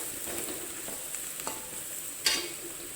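Chili powder is stirred into hot oil with dry fish masala, giving a faint, steady sizzle under soft scraping strokes of a spoon and one brief louder scrape.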